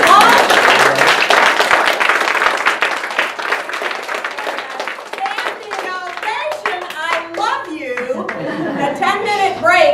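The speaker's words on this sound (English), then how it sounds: "Give me a round of applause." Loud, dense clapping from a contest audience fills the opening seconds, thinning into scattered claps as talk and chatter rise toward the end.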